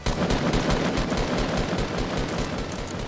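Rapid automatic gunfire in the Fortnite Battle Royale video game, a dense, loud, continuous burst of shots rattling steadily for about three seconds with no talking.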